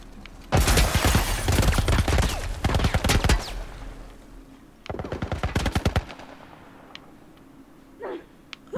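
Video-game gunfire in The Last of Us: loud, rapid bursts of automatic fire crackle for several seconds, pause, then return in a second shorter volley, followed by a few scattered distant shots.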